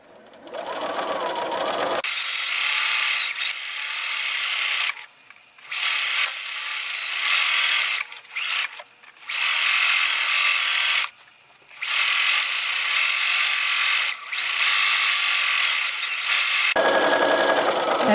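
A sewing machine edge stitches a fleece scarf in several loud bursts of whirring, separated by brief pauses, with a quieter stretch at the start and end.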